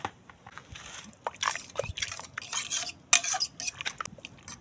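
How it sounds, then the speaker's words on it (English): Caramel being stirred in a pot while cooking a Jamaican breakfast dish, with repeated scraping and clinking of a utensil against the pot in uneven bursts, close and fairly loud, with a faint voice underneath. "Give it a little stir."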